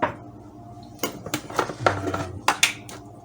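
Instant coffee being lightly stirred in a cup, a handful of sharp spoon clinks and taps against the cup spread irregularly over a few seconds in a quiet room.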